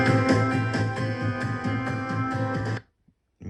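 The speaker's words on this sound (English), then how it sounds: "Here's the sound of the radio." Music plays from the radio of a JVC RA-P10 portable audio system with alarm clock, full and steady at moderate volume, then cuts off abruptly near the end, followed by near silence.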